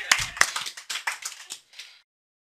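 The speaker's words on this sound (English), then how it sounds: "Give me a round of applause." A round of applause, a short burst of quick, crisp handclaps from a small group that thins out and stops after about two seconds, followed by silence.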